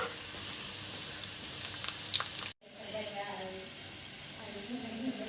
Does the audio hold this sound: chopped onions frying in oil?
yes